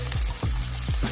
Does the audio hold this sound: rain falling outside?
no